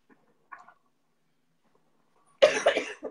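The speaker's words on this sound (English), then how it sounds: "I'm still coughing" A single harsh, loud cough bursts out after a stretch of near silence, preceded by a few faint, soft vocal sounds.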